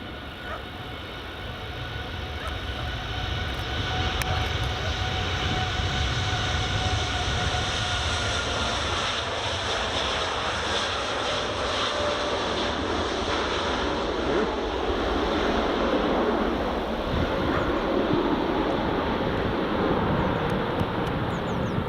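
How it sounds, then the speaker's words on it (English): A Qatar Airways Boeing 787 Dreamliner rolls for takeoff on runway 24 at Edinburgh Airport, a broad steady jet roar that builds and holds loud throughout, heard from a distance with no talk. "Here's the Qatar Dreamliner, folks. Just rolling now."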